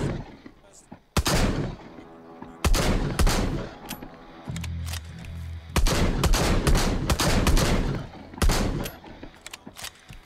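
Gunfire in the video game Arizona Sunshine, with loud sharp shots in irregular bursts, some single and some rapid clusters, with quieter gaps between them.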